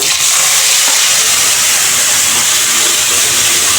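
Fenugreek, cumin, coriander, chili, turmeric and salt sizzle in hot oil while tempering a Bengali curry spice mix, a steady loud frying hiss that stays close and unbroken with no talking over it.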